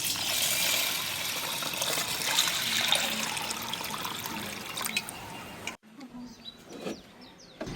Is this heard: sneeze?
no